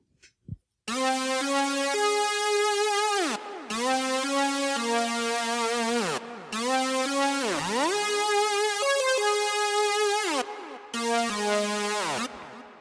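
Thick, buzzy unison synth lead made in Harmor with sliding pitch bends plays a repeated melodic phrase, loud and up front, broken into sections by short pauses.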